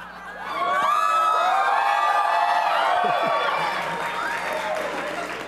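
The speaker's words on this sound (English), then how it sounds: "that's a round of applause for everybody letting us put them on TV at 6 in the morning" A studio audience at an early-morning live TV taping breaks into sustained applause mixed with loud cheers and whoops, a dense, steady roar that fills the room and tapers slightly toward the end.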